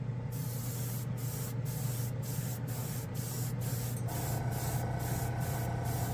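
An airbrush sprays generic chrome paint in a steady close hiss, pulsing slightly in regular bursts over a low compressor-like hum.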